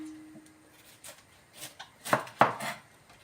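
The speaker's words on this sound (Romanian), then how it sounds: "haideți noi să tăiem acum varza" A knife chops through cabbage on a board, giving half a dozen quiet, uneven thuds, with the last few strikes crisper and louder.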